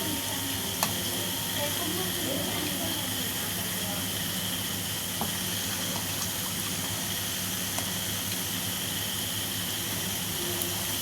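Food frying in a pan, a continuous soft sizzle and hiss with occasional faint clicks, steady throughout at low level with no clear talk.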